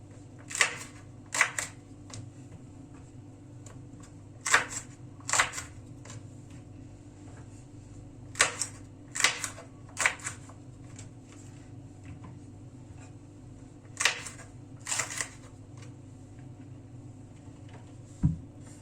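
Knife chopping through peppers on a cutting board, crisp clustered knocks separated by short pauses, nearby over a faint low hum.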